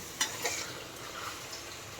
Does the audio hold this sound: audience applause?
no